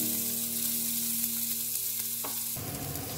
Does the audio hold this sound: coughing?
no